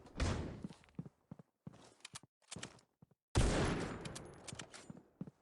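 Gunfire in a first-person shooter match comes as sharp bursts of shots, a short spray at the start, scattered single shots through the middle and a long loud volley later, with quiet gaps between.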